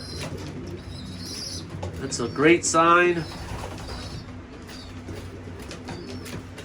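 Young weanling pigeons coo softly in a loft, with a brief burst of wing flapping and someone speaking briefly over the low steady cooing.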